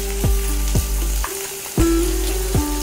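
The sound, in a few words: stirring and frying boiled potato with asafoetida in pan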